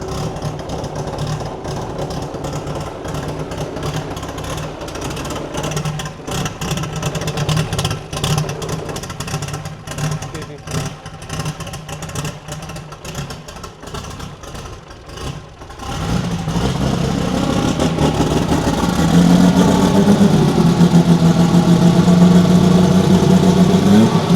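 An electric motor in an EV-swapped Ford Foxbody Mustang with a 5-speed manual rumbles steadily, then its rising whine and hum swell louder as it speeds up and holds a strong, even pull.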